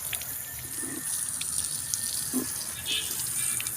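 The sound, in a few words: water being poured to water potted plants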